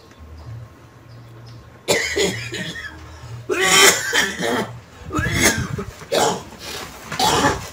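Several harsh, wet, phlegmy coughs and throat-clearing bursts in quick succession, close and loud, after a quieter opening with low background hum.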